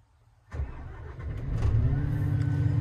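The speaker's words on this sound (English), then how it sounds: "The engine starts." A large diesel engine of a DL420-7 mining shovel cranks and catches after a brief quiet moment, then settles into a deep, rising rumble that grows steadily louder.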